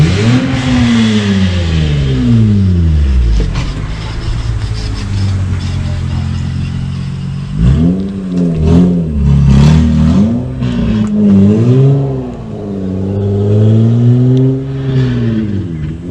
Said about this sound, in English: here in Alabama, we have the children that have the loud cars